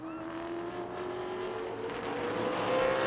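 A super late model race car on the New Smyrna speedway during qualifying, its engine a steady, sustained drone that swells slightly louder toward the end as it nears, with no talk over it.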